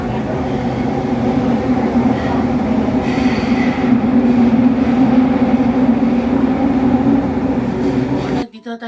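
A Tokyo subway train on the Ginza Line carries riders toward Ueno, a loud steady rumble of wheels and car noise with faint squeals, ending in a sudden drop, while voices talk inside the car.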